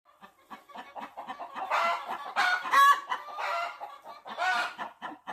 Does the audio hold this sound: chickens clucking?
yes